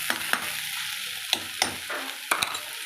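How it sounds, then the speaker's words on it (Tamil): Onions sautéing in a pan for a spicy fish curry, a steady close sizzle broken by several sharp spoon scrapes and stirring knocks against the pan, with no voices. "பார்த்திங்கன்னா இதை நல்லா வதக்கி கொடுக்கணும்"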